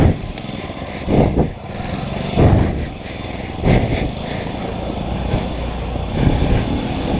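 A small engine on a Moby moped revs and accelerates, loud and close, with repeated surges and throttle bursts over a rough idle-like drone.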